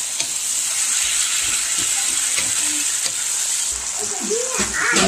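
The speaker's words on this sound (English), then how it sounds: "we're going to stir those onions in. Make sure you leave that on high." Onions sizzling steadily in a hot pan on high heat for chicken fajitas, with close scraping and stirring strokes over a constant frying hiss.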